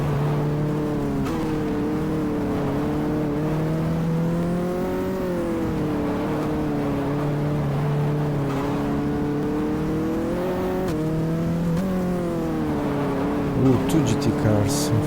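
GT race cars lapping Portland in the GTR2 racing game, engines droning and shifting pitch continuously through the run, with a brief rough burst near the end.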